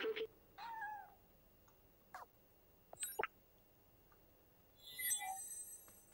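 Cat meows in the video game Stray, a few short separate calls early on, then scattered game sounds and brief clicks, with a later bright tonal burst; quiet overall with no talk.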